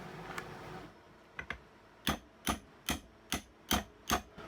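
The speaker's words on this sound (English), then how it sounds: "Always use a brass hammer when you're tapping on your tools." Sharp metallic taps of a brass hammer on tools, about eight in a steady rhythm, close by with quiet gaps between strikes; two lighter taps come first.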